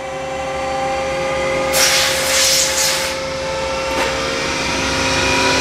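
Takisawa EX108 CNC machine running a program, a steady mechanical hum with tonal whine, interrupted by a loud hissing burst of air lasting over a second and a short later puff, likely during tool changes.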